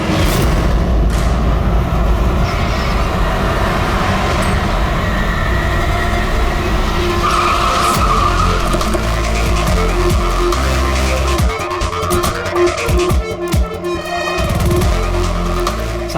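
A driverless car rolls along with loud road and engine rumble, tires scraping and skidding in a drawn-out, gritty roar that stutters toward the end.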